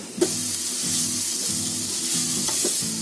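Mushroom filling stir-fried with black pepper, chili flakes and salt in a pan, a steady close sizzle with rhythmic spatula scrapes repeating about every half second.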